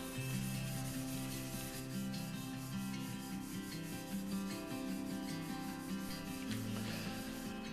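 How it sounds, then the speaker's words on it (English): A handmade knife is rubbed with 600-grit sandpaper in steady, continuous back-and-forth strokes, close up and fairly even in loudness throughout. "after sanding it with 600"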